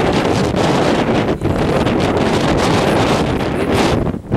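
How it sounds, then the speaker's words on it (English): Strong gusting wind buffeting the microphone of someone walking along old Highway 66, a loud, continuous roar with brief dips between gusts and no voice heard. "Holding 3 miles an hour in a strong wind."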